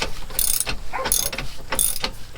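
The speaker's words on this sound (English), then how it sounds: "over tightening of the tie rod bracket flange lock nuts can cause improper fit and potential failure of U-bolts" A ratchet tightens the tie rod bracket flange lock nuts on a Tiffin motorhome. It makes several close, sharp bursts of metallic clicking in quick strokes with short pauses between them, and no voices.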